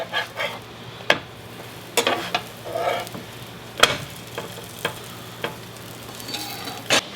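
Pupusas sizzling steadily in a hot pan, with sharp clicks and scrapes of a spatula or tongs breaking through the frying hiss at irregular intervals.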